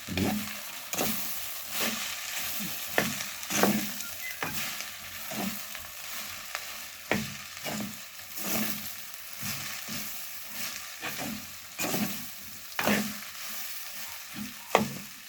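Jackfruit sizzles in a hot pan with garlic and curry leaves while a spoon stirs it, a steady frying hiss broken by regular scraping strokes throughout, close and without talk.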